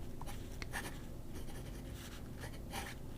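A fountain pen with a fine in-house nib scratches across paper in quiet, close strokes, a soft textured rasp with small repeated bursts of friction and no voices.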